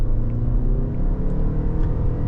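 A 2026 Lexus RX350h F Sport hybrid SUV gathers speed in sport mode, heard from inside the cabin as a steady low engine drone and rumble that rises slightly.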